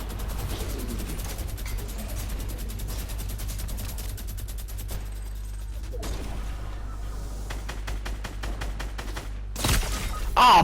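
Rapid bursts of gunfire from the Fortnite video game crackle in quick repeated volleys, loud and close, with brief pauses between strings of shots and a heavier impact at the end.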